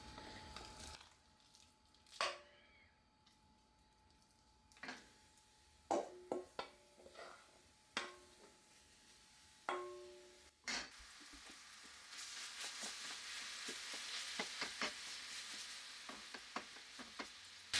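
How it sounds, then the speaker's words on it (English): Ground turkey sausage, made with herbs and spices, cooks in oil in a pan, giving a faint, steady sizzle that grows in the second half, broken by scattered utensil scrapes and clinks as it is stirred. "I'm going to cook the sausage well done."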